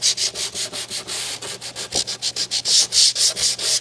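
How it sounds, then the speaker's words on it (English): Rapid back-and-forth strokes of 120 grit sandpaper cleaning out a wooden dado, loud and close, a steady rhythmic scrubbing with no talk. "So just take some 120 grit sandpaper and kind of clean those out"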